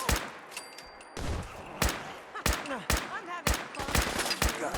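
Gunfire in Fallout 4, with repeated loud sharp shots in rapid irregular bursts and clattering noise between them, no talk over it.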